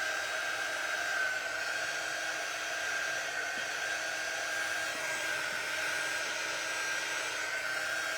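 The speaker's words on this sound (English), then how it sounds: "I'm still blow drying with my little baby blow dryer." A small hand-held hair dryer blows with a steady, close whine and airy rush, holding an even pitch throughout with no talking.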